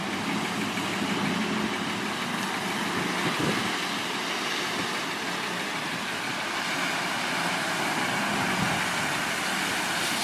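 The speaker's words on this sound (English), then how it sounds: "There's the motor's growling there with the water." A fishing boat's outboard motor off St Lucia runs with the throttle open, a steady growling drone blended with rushing water and wind noise, loud and continuous with no talk.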